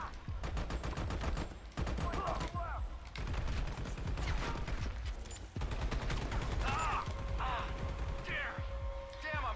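Dense gunfire sprays continuously in the video game Army of Two, loud rapid bursts with short gaps, under a busy game soundscape with scattered metallic clanks.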